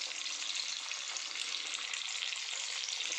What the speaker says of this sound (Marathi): आता आपण एक एक आपली वडी जी आहे चांगली छानपैकी डीप फ्राय करून घेऊया.